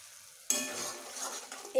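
Coriander and cumin powder hit hot oil with a sudden sizzle, then keep frying under light stirring, close and moderately loud, with a scrape near the end.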